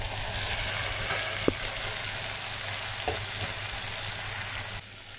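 Shrimp rubbed with salt, turmeric and chili fry in a pan with a steady, close hiss and sizzle, broken by a couple of faint clicks from stirring.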